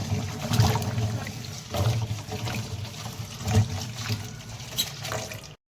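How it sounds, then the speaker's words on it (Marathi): Bean pods being washed in water in a home kitchen, soft sloshing and splashing in uneven bursts, close but fairly quiet, with no talk. "हे सर्व पावट्याच्या शेंगा वगैरे आम्ही मस्त असं स्वच्छ धुवून घेतो पाण्यामधून"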